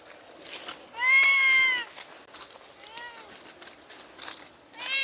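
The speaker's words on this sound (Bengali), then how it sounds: "মিয়াও।" A cat meows several times up close: one long, loud drawn-out meow, then shorter, softer mews spaced through the quiet.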